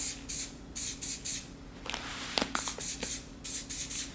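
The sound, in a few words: spraying orange spray paint from a rattle can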